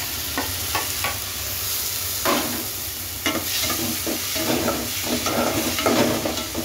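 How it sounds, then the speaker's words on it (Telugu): Onions, green chilies and tomato pieces fry for a mushroom curry in a pan, giving a steady close sizzle broken by repeated scraping stirs, with no voices. "తర్వాత పచ్చిమిర్చి, టమాటా ముక్కలను వేసుకుందాం"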